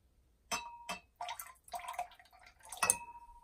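Liquid is added to a beaker of solution during a bromoform synthesis, producing a few separate small splashes and drips with faint glassy clinks, close and quiet, with no talk.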